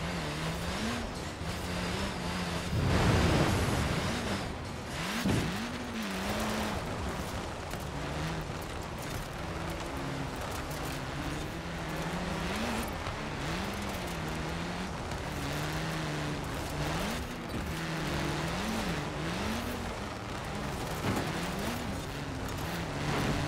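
Tuned car driven in Forza Horizon 4, an engine droning steadily with its pitch rising and falling through gear shifts and throttle changes, continuous for the whole stretch.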